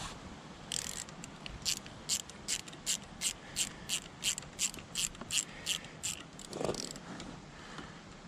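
A ratchet wrench turns bolts by hand during a clutch replacement on a Yamaha Banshee, giving a steady run of about fifteen evenly spaced, crisp clicks, close and fairly quiet, with no talk.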